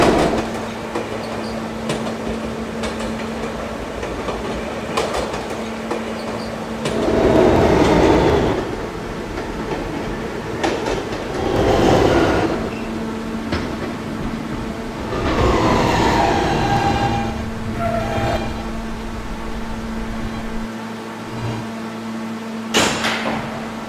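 Interior ride on a New York E subway train, a Kawasaki R160 with Siemens propulsion: a constant rumble with a steady motor whine, swelling into louder surges of rolling wheel noise and clatter several times, with no one talking.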